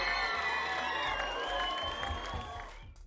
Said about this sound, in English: That's the crowd, guys, for Elite Force 10